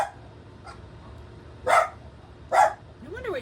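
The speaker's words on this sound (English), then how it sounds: "They bark a lot." A dog lets out two sharp barks about a second apart, fairly close and clear over a quiet background, with no talking.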